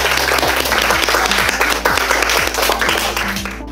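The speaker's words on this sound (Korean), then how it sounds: "우리 모두 박수 치면서 수업을 마치도록 하겠습니다." A fourth-grade class applauding together at the end of a Korean language lesson, brisk, close, loud clapping from many children, steady and lively over a low hum until it tapers off.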